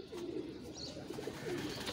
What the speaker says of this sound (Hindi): पल्ले के बड़े ज़बरदस्त कबूतर हैं ये प्यारे भाई